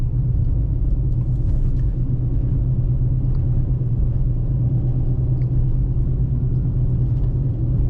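Cabin of a 2007 Toyota Highlander Hybrid cruising at 45 on snowy back roads, a steady loud low rumble of road and tire noise that stays constant throughout with no talk.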